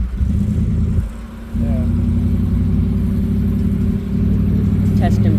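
A pickup truck engine runs close by with a steady mid-range rumble that dips briefly, then holds and swells slightly as if revving, while a person speaks a word over it.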